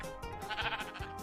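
Sheep bleating in the Minecraft video game, a short, wavering, nasal bleat sounding fairly close and standing alone, with no talking over it.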